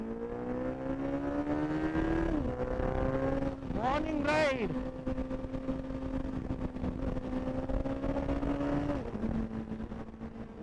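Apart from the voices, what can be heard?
superbike with aftermarket exhaust revving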